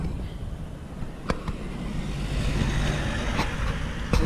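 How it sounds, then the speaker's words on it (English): A car drives past on a street, a steady low rumble of engine and tires building in the second half, close by, with a few sharp clicks and knocks on top and no talking. "this car just coming past me"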